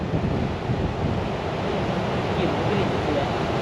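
Sea waves wash onto the shore at a Pattaya-area beach in a steady, unbroken roar, mixed with wind buffeting the microphone, with no clear breaks between swells.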